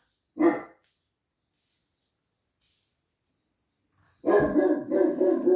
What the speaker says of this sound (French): Oh, il m'agace ce chien.